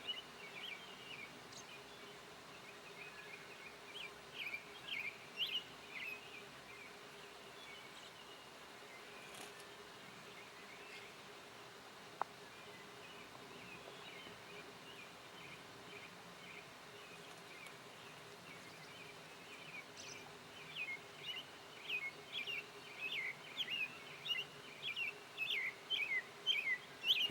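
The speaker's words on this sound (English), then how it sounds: "You can hear the birds chirping behind me." Birds chirp and tweet faintly in the distance over a steady outdoor hum, the calls growing busier and more frequent toward the end.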